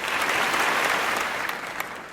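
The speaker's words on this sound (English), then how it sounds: "Let's get a round of applause for those people." Audience at a high school awards ceremony gives a round of applause for award winners, a dense, even wash of clapping filling the whole moment and fading slightly toward the end.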